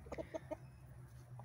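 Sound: rooster and chickens clucking in a garden

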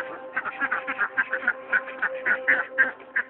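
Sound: pet ducks quacking

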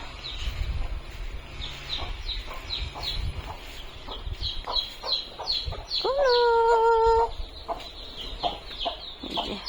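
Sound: hen clucking with newly hatched chicks

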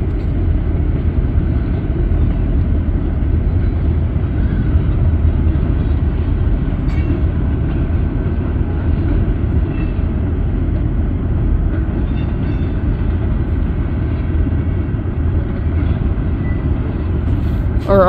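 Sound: freight train passing with DPU locomotives

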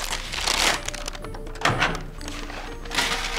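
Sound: folding a brown paper bag

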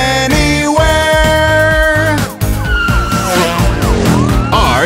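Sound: police car siren in a children's song

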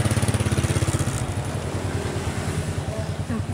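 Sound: motorcycle engine running

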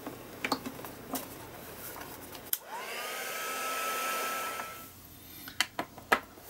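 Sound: heat tool drying paint on art journal page

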